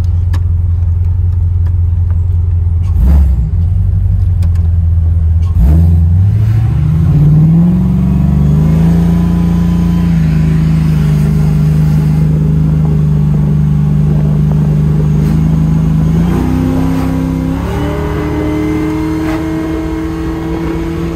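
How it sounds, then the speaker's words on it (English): A Chevrolet Monte Carlo SS Aero Coupe accelerates hard with a loud, close engine rumble, its pitch climbing and dropping through several gear shifts in a steady run with no talk. "Smooth as hell, shifting all them gears like it's supposed to."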